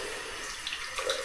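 Cold water runs from a tap in a steady faint hiss and splash, a soft continuous stream with small splashing bursts near the end.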